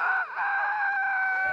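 Chicken clucking and squawking loudly and close by in a short burst, a sustained harsh call.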